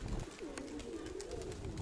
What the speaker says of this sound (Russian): Умный голубь тут дома сів.